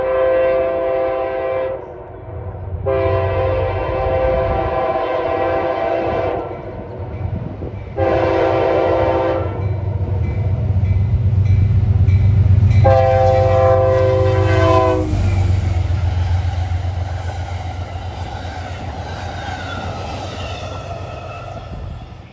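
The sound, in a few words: passenger train passing with horn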